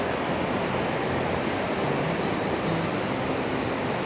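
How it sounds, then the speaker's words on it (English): Mardalsfossen waterfall in Norway heard from a distance as a steady, even roar of falling water, a dense hiss that holds constant and fills the whole stretch with no voices. "That is the waterfall."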